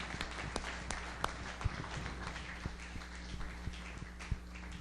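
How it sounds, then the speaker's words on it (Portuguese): Church congregation applauding, a dense wash of clapping with scattered sharper individual claps, moderately distant and steady throughout, with a low hum in the room. "Pode aplaudir com vontade."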